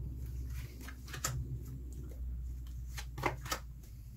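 Tarot cards being shuffled by hand up close, a soft, steady riffling and sliding of card stock with a few sharper flicks, quiet and alone with no talking.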